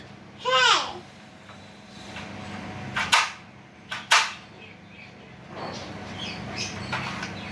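A child's toy cap gun fires in sharp cracks, one near the three-second mark and another a second later, alongside playful squeals and a whistle-like toy sound, with kids' voices and background chatter around them.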